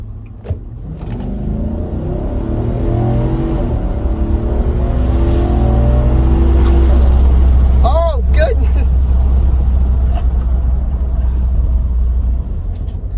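Road noise inside a 2017 Nissan Armada Platinum with the back windows rolled down, a loud steady rumble and wind roar while driving, with people talking over it throughout.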